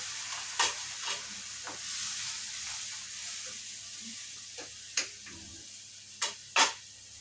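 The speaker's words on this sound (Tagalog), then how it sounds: "kumukulo yung ating chicken kasi naglagay tayo ng suka" Soft, steady simmering and light bubbling of chicken in vinegar in a pot, with occasional sharp clinks and taps of a utensil against it.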